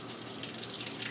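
A European kitchen faucet set to waterfall mode pours a soft, steady stream of water into a sink, quiet and continuous with no voices.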